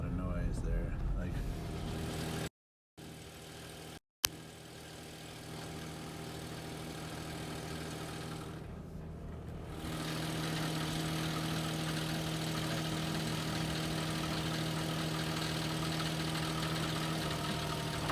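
A 2012 Infiniti M35 hybrid drivetrain on a cold startup gives a steady droning engine hum with a low tonal whine and rough, gravelly undertone, close and continuous with a couple of brief dropouts.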